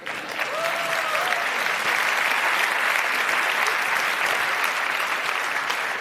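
A full auditorium audience applauds in a sustained, dense wash of clapping that stays loud and steady throughout, with a faint voice briefly audible at the start.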